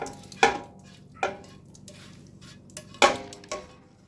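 A spatula scraping a tomato, chili and jalapeno mixture out of a pan, giving four sharp metallic scrapes and clanks at uneven intervals over a low background hum.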